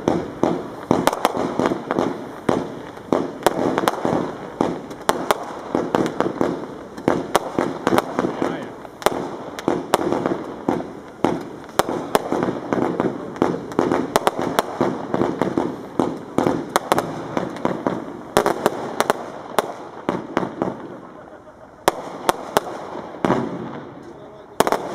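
Lesli fireworks go off in a dense, continuous barrage of crackling bursts and sharp pops for the whole stretch, loud and close, with a brief lull near the end before the bangs resume.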